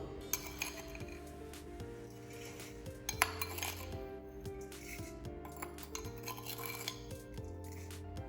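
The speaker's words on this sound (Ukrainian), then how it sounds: "нам необхідно спочатку розтерти жовтки з цукром" Egg yolks being beaten with sugar in a bowl for crepe batter, heard as a quick run of clinking and scraping strokes from a utensil against the bowl, close and steady, with no talking.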